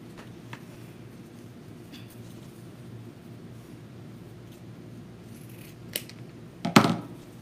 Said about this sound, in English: Trim our tail off.